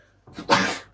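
One close, sharp sneeze, a brief breathy intake followed by a loud explosive burst that fades within half a second.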